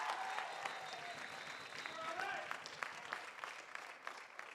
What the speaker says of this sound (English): Big round of applause from the Canadian faithful in front of the booth here